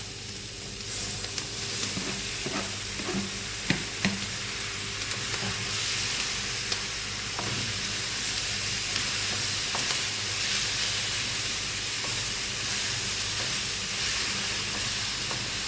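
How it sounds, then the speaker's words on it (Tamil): Chopped tomatoes with softened onions sauté in a hot pan for butter pork masala, giving a steady, dense sizzle with small stirring knocks, close and continuous throughout. "இப்போ தக்காளி போட்டு வதக்கணும்"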